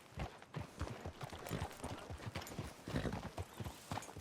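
Horse hooves clip-clop in Red Dead Redemption 2 on Xbox One: a quick, uneven run of close hoof strikes on hard ground, with faint snorting mixed in.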